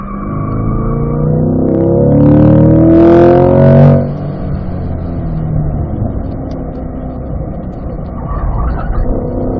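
A car accelerates on a race track during a track session, engine revving loudly and climbing in pitch for several seconds, then easing off into a lower, steadier drone with road and wind noise.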